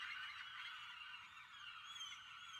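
Seagulls in the video game King of Seas, a continuous faint chorus of high gull cries, fairly even in level with occasional thin calls standing out.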